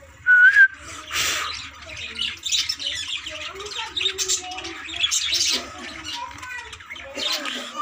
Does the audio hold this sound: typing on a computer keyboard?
no